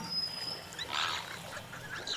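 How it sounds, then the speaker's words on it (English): Birds returning to roost at night on a Kenyan island, with waterbirds calling in honks and quacks over a continuous outdoor background, moderately near and fairly quiet. "Here and now, the birds return to roost."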